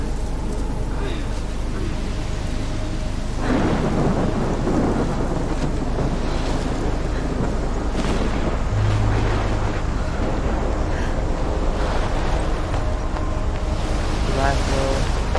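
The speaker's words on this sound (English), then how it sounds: "That's a tornado, right?" A giant tornado storm in the video game Life Is Strange roars with loud, constant wind and crashing gusts, a heavy rumbling wall of noise throughout.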